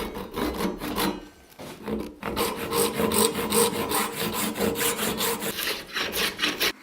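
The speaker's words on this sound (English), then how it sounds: "We'll rip our stock now to 7/8 of an inch." Hand saw ripping maple stock to width, repeated rasping back-and-forth strokes, close and loud, with a brief pause early on.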